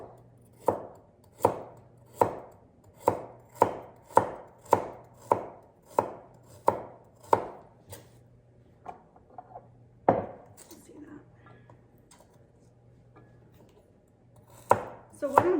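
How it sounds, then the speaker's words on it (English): Knife chopping carrots into small rounds on a cutting board for a canned stew: a quick run of about a dozen crisp, evenly spaced chops, a pause, then a few more cuts, close and clear. "when I get to the carrot that's a little bigger, I'm just cutting it in half."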